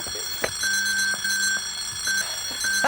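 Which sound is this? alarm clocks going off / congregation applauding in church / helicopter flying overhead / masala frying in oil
alarm clocks going off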